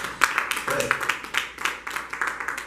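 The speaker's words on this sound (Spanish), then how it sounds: "Denle un aplauso a papá." A church congregation claps for a father during a sermon, uneven rhythmic clapping in short bursts close by, with a voice speaking over part of it.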